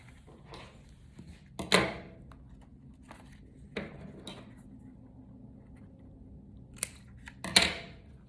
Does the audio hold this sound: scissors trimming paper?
yes